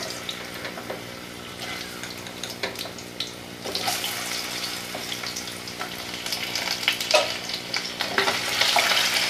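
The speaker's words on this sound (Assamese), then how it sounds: "তেলখিনি গৰম হৈছে এতিয়া মই আলুখিনি দি দিছোঁ" Thinly sliced potatoes frying in hot oil give a continuous sizzle and crackle that grows louder and busier as the slices settle, heard close with no talk.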